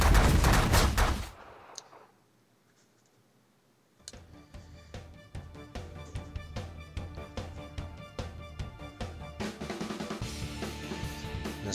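Rapid weapons fire from a ship attack in the space strategy game The Last Federation. After a loud opening burst and a brief hush, a dense stream of sharp, repeated shots and pops continues steadily.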